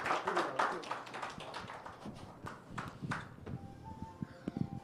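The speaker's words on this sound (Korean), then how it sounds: "우리 아이들에게 다시 한번 격려의 박수 한번 부탁드리겠습니다." A church congregation claps for children at a Christmas Day thanksgiving service, a dense burst of applause in the opening second that thins into scattered claps and taps, with voices murmuring throughout.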